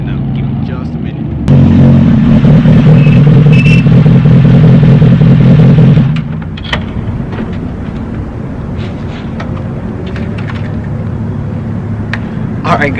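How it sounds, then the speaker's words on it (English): A 2007 Kawasaki ZX6R sport motorcycle engine runs loud and close for several seconds, then drops to a quieter idle with clatter and background noise. "so that's the new bike. That is my 2007 ZS6R."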